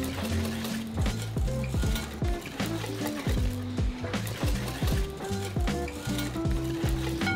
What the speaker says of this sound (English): So you're gonna add one egg and you're gonna whisk.